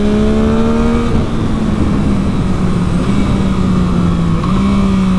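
Loud close-up of a 2021 Yamaha MT-09 SP motorcycle engine accelerating with rising pitch, then a brief dip as it downshifts and picks up again, mixed with rushing wind.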